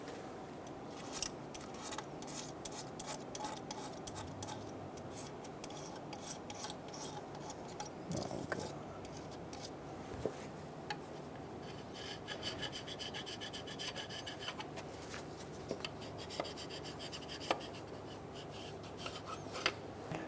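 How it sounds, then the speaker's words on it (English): Close, steady rasping of a scraper dragged repeatedly across the engine gasket surfaces of a 2003-2007 Honda Accord 3.0L V6, stroke after stroke, with no talking. "We're going to remove our cardboard using a scraper. Go through and scrape these surfaces"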